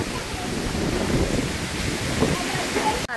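A heavy downpour with strong gusting wind rushes in a dense, continuous roar, ending in a sudden handling knock near the close.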